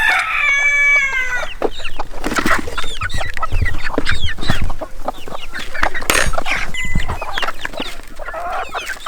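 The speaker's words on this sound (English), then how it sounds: "I have less chicks trying to escape over here." Chickens and young chicks in a backyard coop cluck, peep and crow close by, a busy overlapping flock chorus that continues steadily throughout with no talking.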